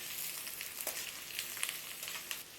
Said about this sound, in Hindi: अभी मैं ये प्याज भी ऐड कर देंगे। दो मिनट में पकाएंगे।